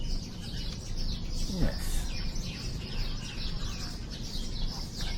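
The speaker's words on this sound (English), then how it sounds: "Let me enjoy my morning coffee with the sounds of the birds" Birds chirp and call outdoors on a morning at a resort, moderately close, over a steady bed of ambient background noise, with a brief voice at one point.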